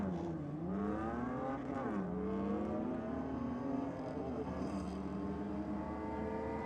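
A Fiat Abarth 695 and a manual-shift Ford AU Falcon drag race at a Sydney drag strip, engines droning loud and steady with rising, shifting revs throughout.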